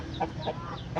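A hen clucks in a short run of soft, rhythmic calls near a rooster at a nesting spot, four quick close clucks within about a second.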